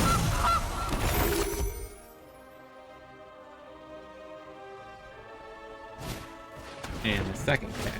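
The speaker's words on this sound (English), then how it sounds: "There's the goose." A goose honks in a Magic The Gathering digital card game, a brief loud burst at the start, then quiet tonal game sounds, with another sharp burst near the end.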